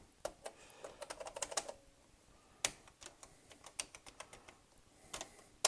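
Keys on a Thomson TO8D computer keyboard being pressed, a string of quiet, close clicks in irregular bursts, some quick runs and some single taps, with no voices.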